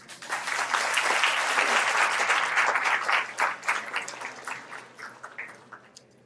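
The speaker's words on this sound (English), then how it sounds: "Let's give them a big round of applause." An audience at a vegan conference panel discussion in India claps loudly and steadily for the panelists, a dense wash of applause that gradually thins and fades out.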